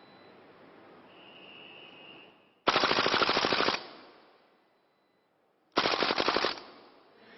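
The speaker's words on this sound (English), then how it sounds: "It shoots like an AK-47, just that it's not firing actual bullets." A simulated AK-47 on a tactical engagement simulator firing blank-free bursts, two loud rapid automatic volleys of about a second each, separated by quiet hiss and near silence.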